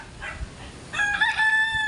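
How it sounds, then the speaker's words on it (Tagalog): A rooster crows once, a clear, close call rising out of quiet farmyard background noise. "Dito maraming manok. Tatalaok."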